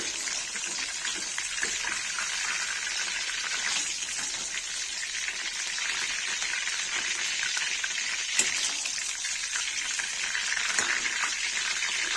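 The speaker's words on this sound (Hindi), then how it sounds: "आलू बाकी है, फ्राई हो जाए तो और फ्राई करेंगे।" Potatoes fry in a pan of hot oil for a Kashmiri brinjal paneer dish, giving a constant loud sizzle with crackling pops and one sharp spike, heard alone without talk.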